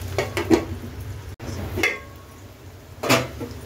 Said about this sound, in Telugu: ఇప్పుడైతే మనం కాసేపు మూత పెట్టేద్దాం